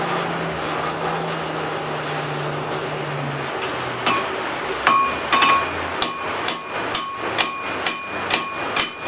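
Hammer blows on hot steel as a railroad spike is forged into a hatchet, first a few scattered strikes, then a steady run of sharp, ringing anvil hits at close range with no talking.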